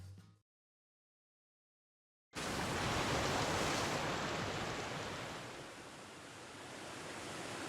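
Rushing river water from the video game Fate/Grand Order bursts in after a short silence as a loud, steady broadband roar that swells slightly and continues to the end.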